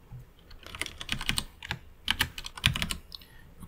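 Typing a file name on a computer keyboard in 3D software, a close, quiet burst of irregular key clicks in quick clusters with short pauses.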